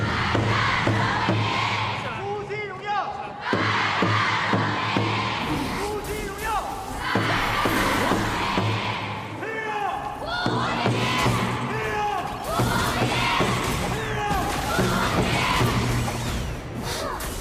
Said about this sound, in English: let's pass it over to the crowd for the chant